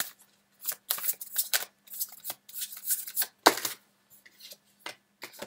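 Tarot cards are shuffled and drawn by hand in a string of crisp riffling and flicking bursts, some quick and clustered, others spaced apart, close and fairly quiet with no talking.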